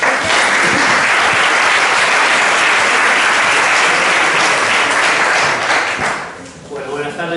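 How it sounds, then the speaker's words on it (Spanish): Dense applause from an audience at a science café talk on nuclear energy fills the room, sustained and loud for about six seconds before fading out as a voice begins. "Un aplauso, por favor."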